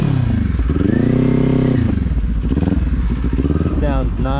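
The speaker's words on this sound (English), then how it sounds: "It's a Leo Vince exhaust. It sounds beautiful." A motorcycle fitted with a Leo Vince exhaust revs up close, its engine climbing and falling in pitch through several throttle blips with a gravelly, crackling exhaust note, loud and dominant.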